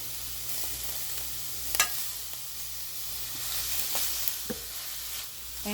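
Cauliflower with turmeric and salt being stirred in a frying pan, a steady hissing sizzle throughout with occasional soft scrapes and knocks of the spoon, no talk.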